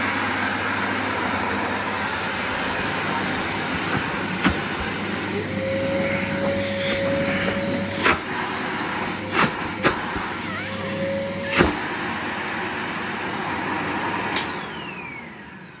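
A vintage cream and brown Numatic Henry vacuum cleaner fitted with a Dyson motor runs with a loud, steady whine and roar, broken by a few short knocks and pitch shifts near the end as it winds down.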